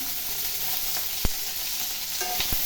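Tomatoes and lentils sautéing in a pan, with a steady soft sizzle and a few sharp clicks from stirring, heard alone without talking.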